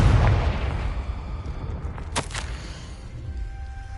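A Confringo blasting curse explosion in Hogwarts Legacy, a rumbling boom at the start that fades, followed by two sharp crackling bursts midway and a quiet tail.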